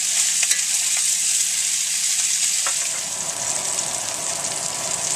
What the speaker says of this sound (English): let them sear for about 4 minutes on that side